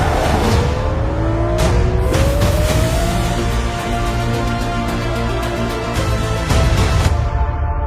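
A racing car engine revs and shifts through gears in a racing simulation game, loud and close, with rising and falling engine pitch and sharp gear-change bursts, no talk.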